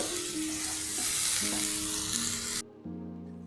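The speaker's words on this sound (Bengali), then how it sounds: "এই দিয়ে আমি এখন মশলাটা ভালো করে কষিয়ে নিই।" Turmeric, salt and cumin powder masala sautéing in oil for an egg curry makes a steady close sizzle with stirring, broken by a short pause near the end, while tonal background sounds drift underneath.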